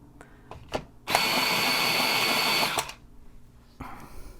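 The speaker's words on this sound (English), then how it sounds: "Sharpen it first." An electric sharpener grinds a black colored pencil in one steady burst of about a second and a half, loud and close, with a few light taps and clicks before and after.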